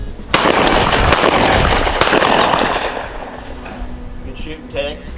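Shotgun blasts ring out during a dove hunt in a West Virginia field, two loud close shots about a second and a half apart with a rumbling echo trailing off, and a voice follows briefly afterward.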